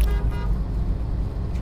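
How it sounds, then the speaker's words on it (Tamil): A car horn sounds in a short blast over loud engine and road rumble, heard from inside a Hyundai Grand i10 on the road. "என்ன நீ எனக்கு ஹார்ன் அடிக்கிறியா?"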